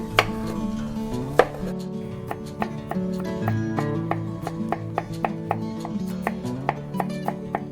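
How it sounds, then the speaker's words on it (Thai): Garlic being chopped with a knife on a board: a steady run of sharp, close knife taps, quickening into a brisk rhythm, heard alone over faint background music with no talking. "แล้วเราก็มา สับกระเทียมเตรียมไว้นะคะ"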